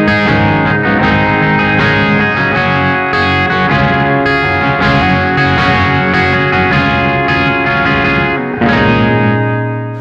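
An electric guitar with a capo on, in standard tuning, plays a song with a fast, steady picked pattern, loud and close through distortion and chorus effects, with no one talking.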